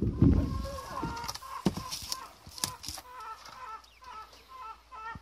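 Chickens cluck and chatter in short repeated calls, close by, with some rustling and a brief bump at the start.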